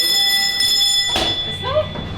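A fire alarm rings steadily during a drill in a dorm, a continuous high electronic tone running throughout, with brief voices and movement noise around it.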